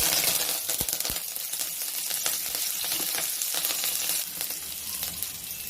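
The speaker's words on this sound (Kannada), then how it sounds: "ಇದು ಹಸಿಮೆಣಸಿನ್ಕಾಯಿ, ಇದು ಬೆಳ್ಳುಳ್ಳಿ, ಗೋಡಂಬಿ, ಕರಿಬೇವು ಹಾಕ್ತಾಯಿದ್ದೀನಿ." Green chillies, garlic, cashews and curry leaves fry in hot oil, giving a steady close sizzle with scattered crackles and pops throughout.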